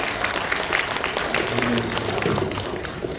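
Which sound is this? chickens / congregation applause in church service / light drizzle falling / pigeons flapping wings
congregation applause in church service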